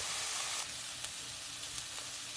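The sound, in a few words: minced garlic sizzling with onions and celery in pot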